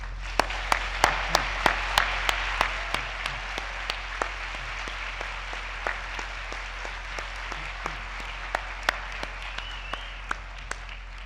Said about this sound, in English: let me ask you to join me in giving the Brian Sand Quintet a very warm round of applause